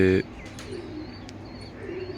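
A brief, soft pigeon coo right at the start, then a faint chirp over quiet background hiss.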